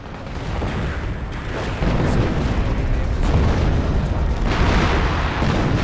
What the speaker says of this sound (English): maybe I can do a little bit more damage with one more artillery barrage